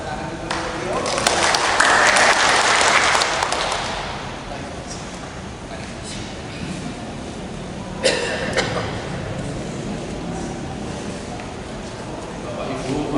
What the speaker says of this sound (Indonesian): Kita tepuk tangan dulu untuk beliau.